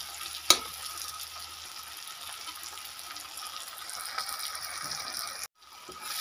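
Cauliflower and boiled potatoes fry in a pan with a steady, soft sizzle, a sharp stirring clink near the start and a brief break before the hiss picks up again.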